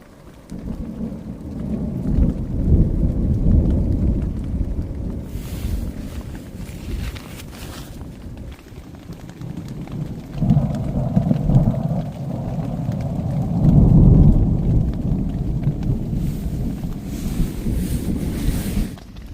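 Thunderstorm caught while stealth camping: heavy rain pours steadily with deep rolling thunder rumbles swelling and fading, plus gusty wind buffeting the microphone, loud and continuous with no talk.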